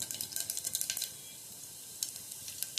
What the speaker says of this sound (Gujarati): વઘારમાં આપણે જીરું નાખીશું